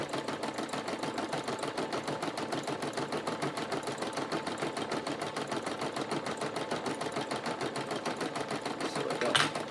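An embroidery sewing machine stitches a design onto toilet paper, its needle hammering in a fast, steady mechanical rhythm close by throughout, with a brief brighter clatter near the end.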